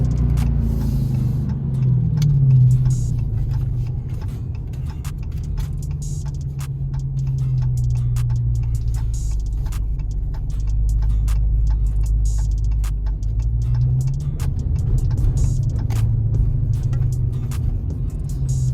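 A car driving slowly at night toward a spot near a key drop box, its low engine rumble steady and close throughout, with a regular ticking like a turn indicator over it.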